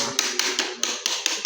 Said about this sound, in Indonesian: Kalau tidak mulus, kita ketok tengah.